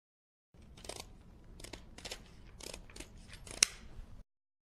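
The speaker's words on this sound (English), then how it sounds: "go ahead with a pair of scissors and cut off the excess" Scissors snip off the excess ends of zip ties on a small underwater ROV frame, giving several close, crisp cuts spread over a few seconds with quiet pauses between them.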